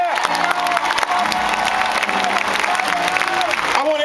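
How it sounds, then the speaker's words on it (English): A crowd applauds and cheers loudly, a thick continuous roar of clapping mixed with whoops and raised voices that holds strong for the whole stretch. "we should give them a round of applause right now."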